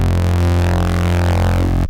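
Distorted synth bass patch layering square, soft saw and triangle waves, a thick buzzing sustained tone with rich gritty harmonics, loud and steady, cutting off abruptly at the end.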